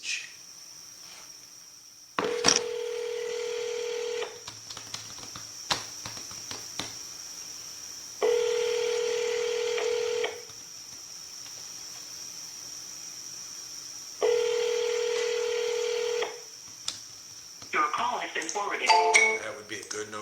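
An outgoing phone call rings back three times, each tone lasting about two seconds with long pauses between, sitting close and clear over quiet room noise before a voice starts at the end.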